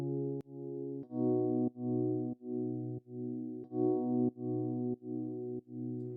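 A keys patch in Studio One run through the Kickstart plugin, sustained chords pumping in a regular rhythmic volume duck roughly every two-thirds of a second, each swell cut off sharply before the next, with no voices.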